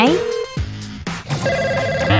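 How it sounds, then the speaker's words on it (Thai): A telephone ringing with an incoming call, a loud repeating electronic ring tone mixed with busy music and effects, with voices over it. "สายเข้า"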